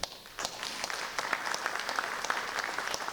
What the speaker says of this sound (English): You don't have to clap after everything.